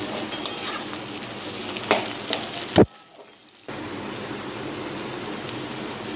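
Onions with bay leaves sizzle steadily in a pan for a Bengali fish-head rice dish, a close hiss with a few stirring knocks, cut by a brief near-silent gap before the frying resumes.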